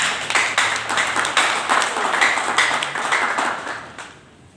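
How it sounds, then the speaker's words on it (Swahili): A room full of people claps along at a sermon gathering, a steady run of sharp hand claps that carries on evenly before fading out near the end. "Simpige tu makofi."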